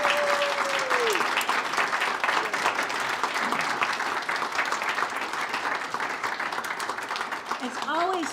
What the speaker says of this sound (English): we can give a big round of applause to all of the shortlisted people